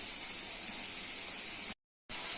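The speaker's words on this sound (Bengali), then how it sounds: "মশলা ভালো করে কষে নিতে হবে মশলা গোটা হয়ে গেছে একটু ভেজে রাখতে হবে" Spice paste frying in a pan while being cooked down, a steady close sizzling hiss that cuts out briefly near the end and then resumes.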